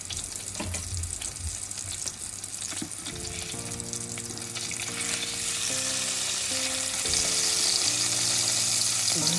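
Fish browning in a pan, flipped to cook all sides, sizzles in a steady, loud hiss. A clear tonal hum or whistle comes in partway through and rises a little toward the end, with no talking.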